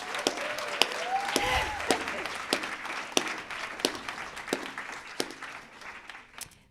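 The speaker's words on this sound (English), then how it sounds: "Can we give an applause to Judith Butler?" An audience applauds at a public talk on nonviolence featuring Judith Butler and Simon Critchley. The clapping is moderately loud and fairly sparse, with individual sharp claps standing out, a short murmur of voices early on, and the clapping thinning toward the end.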